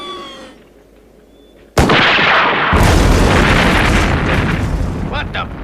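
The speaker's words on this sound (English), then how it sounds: "They must have started demolition." A demolition explosion at an old research center erupts suddenly as one loud, close boom, then rolls into a sustained roaring rumble and debris noise that fades slowly, preceded by a quiet stretch with a brief voice.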